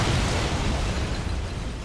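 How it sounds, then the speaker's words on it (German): An explosive charge going off in Sniper Elite 4 fills the moment with a loud, broad roar that rumbles on and slowly fades, with nothing else audible over it. "Muss ich noch kurz warten, bis die Ladung hochgeht."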